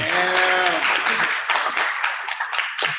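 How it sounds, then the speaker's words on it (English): Audience applause breaks out for a tech talk guest at a Ruby meetup, starting over a voice and a few sustained tones, then thinning into scattered claps that fade across a few seconds. "Everyone give a round of applause for Mike."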